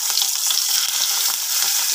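Masala-stuffed brinjal frying in hot oil in a kadai (wok), a dense, bright sizzle heard close up and steady throughout, with no voices.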